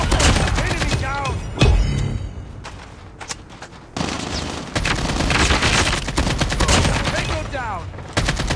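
Call of Duty video game gunfire: dense bursts of rapid automatic shots with heavy booms, nearly continuous and loud, broken by a short lull, with voiced callouts mixed in.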